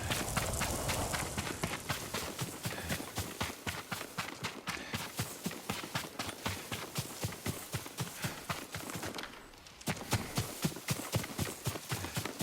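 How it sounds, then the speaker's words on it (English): Horse hooves clip-clop in a rapid, steady rhythm, loud and close, in the video game Ghost of Tsushima, with a brief dip near the end before the trotting picks up again. "Yuriko's horse."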